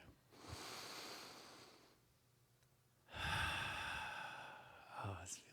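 A group breathes together slowly during a spiritual voice session, with long soft breaths in and out and a pause between them, faint and close, with no talking.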